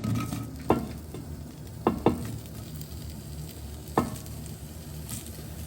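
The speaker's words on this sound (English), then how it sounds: "I'm just going to pop that into my pan, and I'm going to add both my onions" Onions and red peppers sizzle steadily in an oiled pan for a Mediterranean tomato pepper bean soup, with a few sharp clicks of a utensil against the pan.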